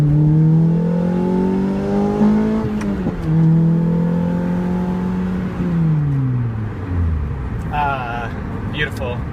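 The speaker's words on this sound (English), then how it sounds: "wanted to give you one experience of accelerating the Lotus" A Lotus Elise pulls away from a green light with its engine note rising through the gears, each upshift dropping the pitch before it climbs again, loud from inside the car, with a voice talking over it.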